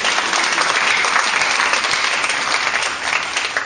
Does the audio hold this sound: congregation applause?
yes